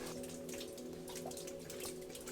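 Water dripping and trickling inside an old mine in northern Italy, a dense continuous patter of drops over a steady low hum, close and fairly loud with no talking.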